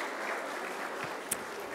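An audience at an HR conclave in Mumbai claps for the panelists, a soft, steady wash of applause with one sharper clap standing out near the end.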